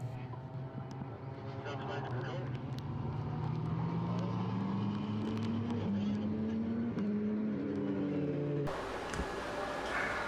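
Formula BOSS race cars idle and rev steadily as they return to the garages at the Mondello circuit, a continuous rising engine drone with shifting pitch, loud and close, under a commentator's voice.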